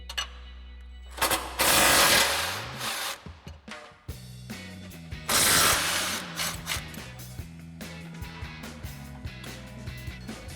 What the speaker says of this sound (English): grab our shallow 18 mil socket on our impact and a 21 millimeter wrench, and go ahead and get in there and remove those bolts